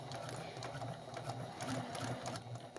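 A sewing machine runs steadily while stitching a curved seam, a continuous close whirring hum with a fast mechanical chatter that holds for about three seconds without speech.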